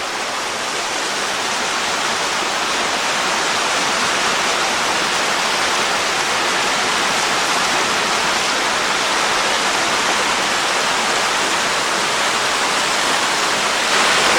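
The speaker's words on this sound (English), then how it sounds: "the water is flowing" Acriggs Falls in Swatara State Park pours in winter with a loud, unbroken broadband roar of falling water, constant and close for the whole stretch, with no talking.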